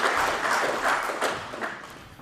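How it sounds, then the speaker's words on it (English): Short burst of audience applause for a Suffolk medal winner at a celebration event, scattered claps from a moderate-sized crowd in a room, fading over a couple of seconds. "So round of applause for Mr. Ali, ladies and gentlemen."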